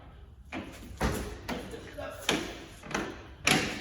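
A door on a 2014 Keystone Fuzion 371 RV toy hauler being raised and closed, a series of five or six separate thumps and clunks spaced about a second apart, moderately close, with quiet talking between them.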